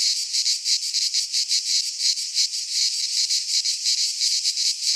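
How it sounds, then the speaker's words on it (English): Cicadas buzz in a loud, pulsing drone, the shrill sound throbbing rapidly and continuously with nothing else audible. "Cicadas and mourning doves."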